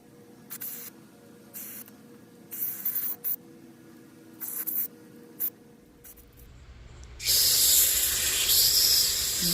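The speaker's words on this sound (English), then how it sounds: "Let's go ahead and spray some carbon cleaner through it." Several short hissing spray bursts with pauses between, then a longer, louder continuous spray of cleaner through a valve at close range.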